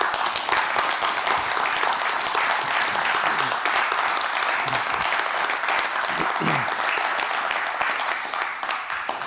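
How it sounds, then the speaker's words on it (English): Dense, sustained audience applause for a four-person panel at a community discussion on race fills the room evenly, with faint voices mixed in before it eases slightly at the end. "Would you please join me in giving these four gentlemen a good round of applause?"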